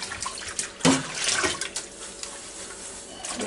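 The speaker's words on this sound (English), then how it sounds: "you take your crisper basket, put it down in the water, just rinse it around" Water splashes and swishes as a Ninja Foodi crisper basket is rinsed around in a sink, with one sharp splash near the start followed by softer sloshing and trickling.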